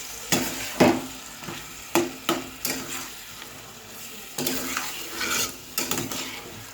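A metal spoon stirs and scrapes a pan where white cumin seeds temper in hot oil, giving a faint sizzle beneath repeated clinks and scrapes that fall in an irregular rhythm.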